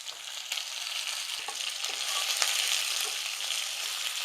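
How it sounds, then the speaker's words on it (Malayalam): Shallots and curry leaves fry in hot oil after mustard seeds have popped, giving a loud, steady, close sizzle with faint crackles and no voices. "എണ്ണ ചൂടായപ്പോൾ നമുക്ക് കുറച്ച് കടുക് ഇട്ട് കൊടുക്കാവേ നമുക്ക് കടുക് പൊട്ടി ചെറിയുള്ളി ഇട്ട് കൊടുത്തു"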